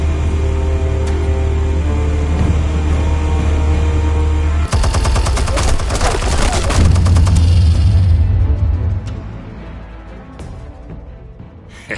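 Armed explosives detonate in the Telltale Batman video game, a loud volley of rapid cracking blasts bursting in over a steady low rumble and ringing on for several seconds before fading into softer debris sounds.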